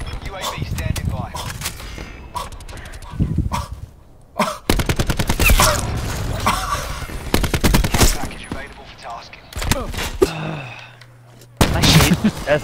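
SMG fire in Call of Duty: Black Ops 4, close rapid bursts of automatic shots in several separate volleys with brief silences between, and a voice talking at times.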